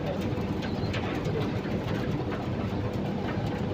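A pigeon with a curved beak gives soft, low cooing at close range against a steady dense background rumble, with no speech.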